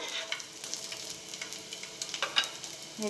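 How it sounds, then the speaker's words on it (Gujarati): Garlic sautés in a pan over a low gas flame, a continuous soft crackling sizzle dotted with light taps and scrapes of a spoon, close and fairly even throughout. "લસણને થોડું લાલાશ પડતું થાય ત્યાં સુધી આપણે સાથળી લઈશું ગેસ લો રાખીશું"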